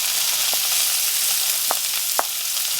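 Food sizzling in a seasoned cast iron skillet, a continuous close hiss with a few sharp pops and clicks, no talking.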